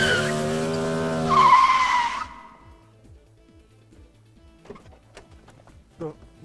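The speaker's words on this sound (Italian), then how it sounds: "Frenata!" A car braking hard with skidding tyres: a loud, shrill squeal for about two seconds that drops off sharply, followed by quiet clicks and small knocks.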